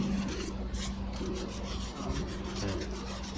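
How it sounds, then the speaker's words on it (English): 80 grit sandpaper scuffing a body panel on a 1969 Mustang BOSS 302 under restoration: a quiet, continuous rasping rub with quick back-and-forth strokes, close and alone. "we'll take some 80 grit and just scuff this area"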